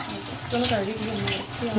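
Hot water runs from a tap to wash pots used for homemade cow ghee, a steady close splashing stream lasting the whole short moment.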